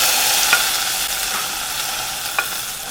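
Hot tempering of fried onion and curry leaves poured into a Kerala-style raw mango curry, giving a steady loud hiss and sizzle throughout with a couple of faint clinks, close up.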